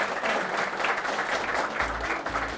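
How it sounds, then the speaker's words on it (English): Loud, continuous applause from an audience, dense clapping filling the whole moment without pause. "a big round of applause for Urvi."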